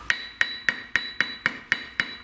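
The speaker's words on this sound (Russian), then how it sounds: "Так, молоточек. Подстукай." Eight crisp, evenly spaced taps of a small hammer on a handmade brick being set in place for a fireplace, close and clear, with no talking.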